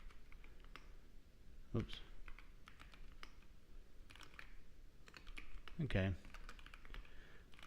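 Linux commands such as mkdir being typed on a computer keyboard, heard as scattered close key clicks and a few louder clacks, with someone briefly speaking between them.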